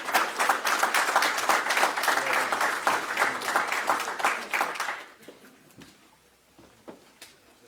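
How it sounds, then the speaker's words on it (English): Audience applause at a Magic City Classic news conference, dense steady clapping for about five seconds that then thins out and trails off into scattered claps and quiet room noise. "one more round of applause for him"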